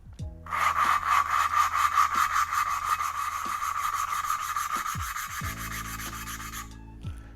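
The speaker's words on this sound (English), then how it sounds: "pay attention to the pitch of the grinding noise here" A steady, coarse grinding rasp of a valve being lapped on an Audi B5 S4 runs for several seconds with a rhythmic back-and-forth texture, then stops abruptly near the end.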